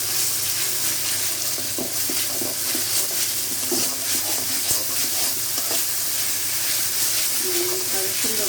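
Whole spices fry in hot oil in a kadai with a loud, dense sizzle and hiss that holds steady throughout, broken by a few faint scrapes of stirring.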